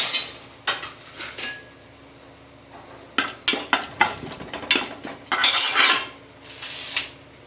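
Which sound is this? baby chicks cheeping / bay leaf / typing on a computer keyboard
bay leaf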